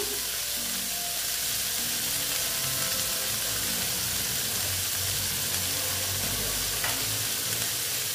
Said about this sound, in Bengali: দিয়ে ভালো মতো এটাকে আমি ভেজে নেব।